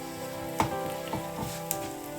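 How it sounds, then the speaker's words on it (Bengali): Vegetables such as pumpkin and okra fry in a pan for a birthday meal, a steady close sizzle and crackle broken by a few sharp scraping stirs. "ভাজাটা চলছে"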